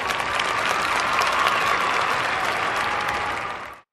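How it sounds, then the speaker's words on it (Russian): A crowd claps steadily in dense, sustained applause for nearly four seconds, even and close, ending with a quick fade. "гром аплодисментов"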